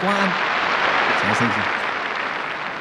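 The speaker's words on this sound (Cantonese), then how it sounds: "掌聲有請" An audience claps at a Cantonese opera performance, a dense wash of applause heard under a speaking voice.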